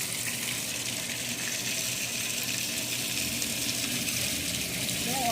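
Water gushing and splashing steadily as a hauling tank overflows during filling, a continuous loud broadband rush with a pump running throughout.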